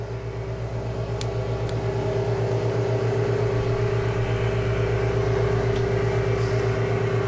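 A valve grinding machine runs with a steady mechanical hum and drone, carrying a couple of faint clicks early on. The sound is close and constant, with no talking.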